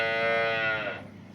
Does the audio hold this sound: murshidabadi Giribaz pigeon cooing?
no